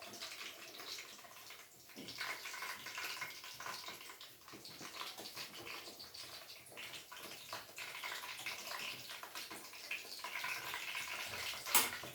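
A tap runs steadily while someone washes their hands, a soft continuous wash of water with faint splashes, quiet and fairly close, with no talking.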